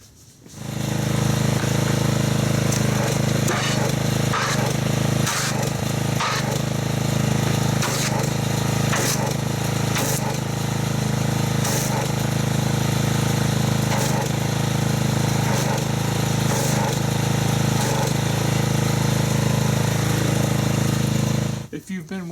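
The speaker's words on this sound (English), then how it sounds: "So let me get the pressure washer and let's see how well this soap foams up." A pressure washer runs loud and steady for about twenty seconds, its motor droning and spray hissing as it sprays car wash soap foam onto a vehicle.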